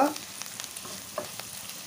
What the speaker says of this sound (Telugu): ఇలా పసుపు కూడా ఆయిల్లో మంచిగా వేయించుకున్న తర్వాత